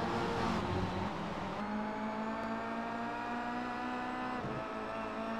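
Race car engines in an iRacing video game at Circuit Gilles Villeneuve run loud and continuous along a short straight, with pitch rising and shifting as gears change and no voices.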